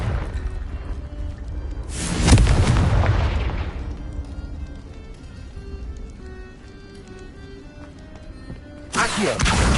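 A Confringo blasting curse in a Harry Potter wizarding video game, a deep booming explosion that swells and rumbles for about two seconds before fading, followed by a quieter tail and another sharp burst near the end.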